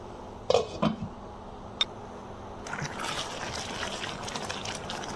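Leftover coconut milk is poured into a pot of egg and hog plum korma, a few knocks and clinks first, then a steady liquid splash and bubbling sizzle that continues to the end.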